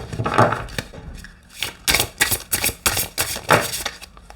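Tarot cards being shuffled by hand make a close series of crisp, papery riffling bursts, quieter at first, then rapid and loud in several quick runs.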